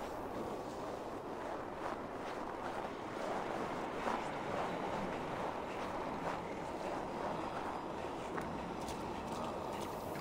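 Strong wind gusting across an open Viking-era game world, a steady broadband rush with boat and sea-like noise, loud and continuous for the whole stretch with no talk over it.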